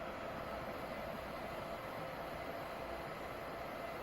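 Amtrak Vermonter passenger train running between New York and New Haven, a steady, even rumble of wheels and carriage noise heard from inside with no talk.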